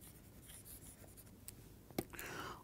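Chalk or marker scratches steadily across a board while a lecturer writes a mathematical expression, close and fairly quiet, with a sharp tap near the end.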